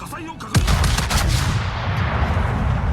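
Battleship Kii firing its main guns in the video game World of Warships: a sharp, heavy blast followed by a long, deep rolling rumble that fades slowly.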